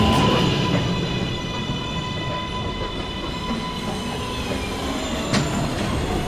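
New York City subway 2 train, Manhattan-bound, pulling into a station at night, a loud continuous rumble of wheels on rail with squealing and clattering, close by, with no voices.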